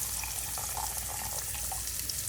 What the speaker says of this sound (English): All I'm doing is I'm pouring some of the pasta water, if not almost all of it